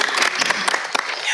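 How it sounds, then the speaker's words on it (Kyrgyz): Audience applause at a televised music show, dense steady clapping filling the whole moment with a few sharper claps standing out, no voices over it. "Кол чаап койсоңор."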